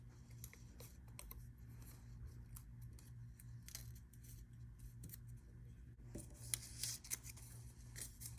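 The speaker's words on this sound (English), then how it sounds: "It takes a long time to cut all of these pieces out." Small scissors snipping out tiny paper pieces for a recycled mandala, quiet irregular close-up clicks and snips over a low background hum, a little busier near the end, with no one talking.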